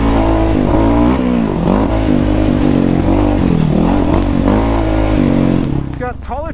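An off-road quad's engine revs loud and close at Lakeview OHV Park, rising and falling in pitch with a throaty drone, while someone talks over it. It drops away near the end.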